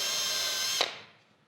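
Power drill with a slightly larger bit enlarging pre-drilled screw holes for a BowFlex power rod replacement, a steady close whine that ends with a brief grab and spins down.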